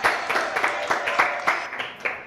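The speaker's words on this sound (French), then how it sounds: "Applaudissements, s'il vous plaît." A French TV studio audience claps for a guest arriving on a talk show, a brisk, fairly rhythmic patter of hands at moderate distance without a break.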